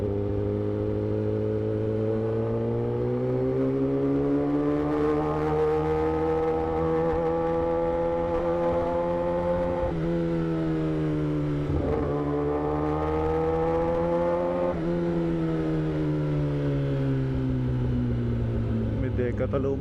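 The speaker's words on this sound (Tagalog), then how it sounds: "Mga traffic." Steady engine drone of a vehicle riding through night traffic, a continuous harmonic hum that rises and dips slightly in pitch, with brief fluctuations as it shifts speed, close and constant throughout.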